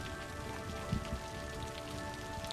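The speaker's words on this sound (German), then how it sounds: "zum Glück regnet es ja." Steady rain patters on surfaces in the city-building game Cities: Skylines, a soft, even hiss of drops over a faint, constant tonal background hum.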